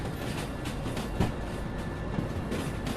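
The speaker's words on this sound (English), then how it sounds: "we have pretty much control over our speed with this light train" Light train rolling along in the Derail Valley VR simulator, a steady low rumble with faint rhythmic rail clatter and a couple of soft bumps, continuous and fairly close throughout.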